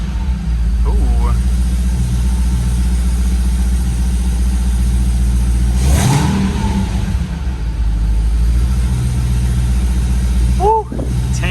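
Car engine with its hood open and a cold air intake fitted with a reusable green filter, idling with a steady low rumble and then revving once mid-way. Heard up close and loud, with a voice briefly exclaiming near the end.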